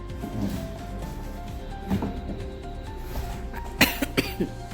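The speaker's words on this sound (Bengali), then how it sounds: "এত কাশি হচ্ছে কথাই বলতে পারছি না" A person coughing indoors, several separate coughs spread across the stretch with a sharp cluster of louder hacks near the end, over quiet room background.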